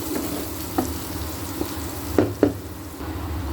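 Food frying in a pan on a low flame, a steady soft sizzle throughout with a few sharper crackles and spits, close and alone with no talking.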